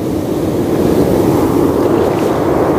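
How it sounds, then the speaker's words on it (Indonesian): Ocean waves surge loudly onto a sandy fishing beach, a dense, continuous wash of surf roaring close by with wind buffeting throughout and no voices. "ombaknya udah mulai gede ini"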